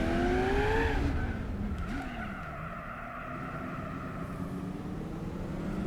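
A Cobra in Gran Turismo 4 roars with a revving engine as its tyres squeal through a skid, pitch sliding down, then settles into a sustained engine drone with a long, wavering tyre screech.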